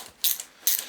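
A worn socket ratchet on a Mitsubishi Shogun alternator bolt gives two short, bright clicking bursts, close and crisp, with a quiet pause between them.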